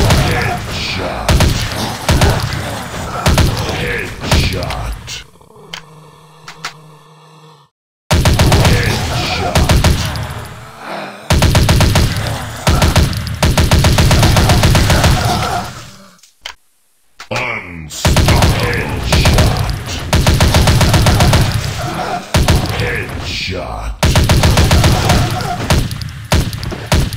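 Dense gunfire from the Dead Target zombie shooter game, rapid continuous bursts of automatic fire, loud and close, broken by a few short pauses.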